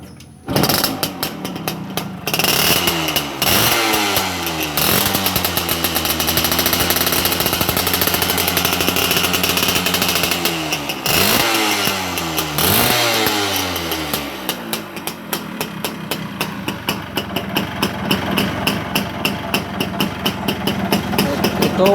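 A Yamaha L2 Super two-stroke motorcycle engine runs close by with its oil pump set high, revving up and down in a few rasping sweeps before settling into a rapid, popping idle.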